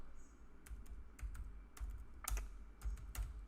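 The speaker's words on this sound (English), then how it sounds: "let me type in import" Someone types code on a computer keyboard, a run of clicky keystrokes in irregular bursts, close and fairly quiet, with no talking.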